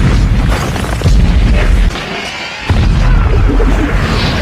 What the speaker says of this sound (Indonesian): menyuruh pasukannya untuk melontarkan peledak dari bubuk mesiu